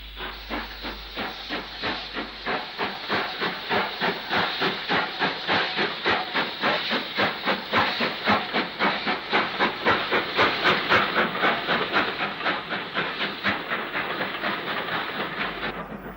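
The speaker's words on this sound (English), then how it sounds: "76077 pulls into platform 3 with a brake van train to Widnes." Steam locomotive 76077 hauling a brake van train into platform 3 at Earlestown in 1967, with loud rhythmic chuffing and hissing steam in a steady, regular beat that swells and eases slightly as it draws in.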